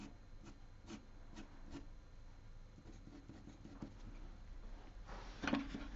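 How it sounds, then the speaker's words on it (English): An H-grade graphite pencil scratching across drawing paper, faint quick rhythmic strokes close by with soft rubbing between them, a slightly louder scrape near the end. "That's quite scratchy, that H."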